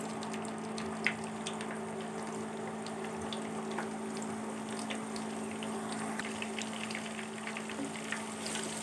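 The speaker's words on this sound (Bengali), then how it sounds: "পেঁয়াজগুলোকে কিছুটা লাল করে ভেজে নেব।" Chopped onions frying in hot oil for a Bengali beef curry, a steady low sizzle and bubbling with a constant hum underneath and occasional faint pops, no talking.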